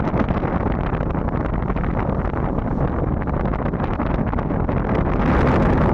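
Strong gusting storm wind on a beach at Kuźnica roars continuously, buffeting the microphone with a dense, rushing noise that swells slightly near the end.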